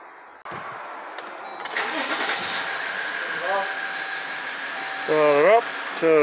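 A Jeep engine with a ZF 8-speed automatic transmission cranks and fires up during a transmission fluid service, then settles into a steady idle with a rising whine and some tonal chirps near the end.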